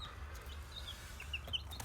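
A few faint, high-pitched peeps from chicks, scattered and brief, over a low steady background rumble.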